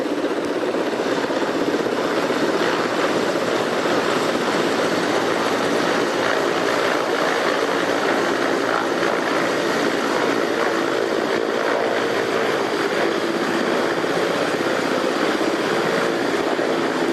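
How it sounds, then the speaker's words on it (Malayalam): A steady, loud rotor and engine roar of a helicopter arriving during the President's visit to Sabarimala, broadband and continuous throughout, with no voices. "രണ്ടാമത്തെ ഹെലികോപ്റ്റർ പ്രമാണത്തേക്ക് എത്തുന്നു"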